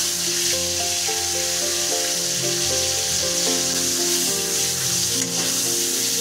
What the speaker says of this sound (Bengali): এখন আমরা এই গরম তেলের উপরে রুই মাছের মাথাটা দেব